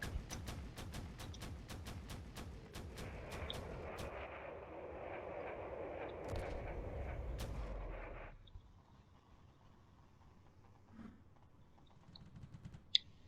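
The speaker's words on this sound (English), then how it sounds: "Their cannons are targeting the corvettes out there" Cannons firing in the space battle game Drone Wars, a rapid string of sharp booming shots over a rumbling engine drone, then the barrage stops, leaving quiet hum and a few isolated blasts.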